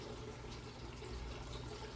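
Rainwater that has stood outside is poured into a container to brew worm tea, making a steady, soft, close splashing pour that runs for the full stretch with nothing else over it.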